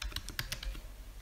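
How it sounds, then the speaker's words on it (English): Typing on a computer keyboard while setting up RSSI in Betaflight 4.1, a quick run of about eight close, crisp key taps that slow and stop. "Sorry, my typing's not very fast."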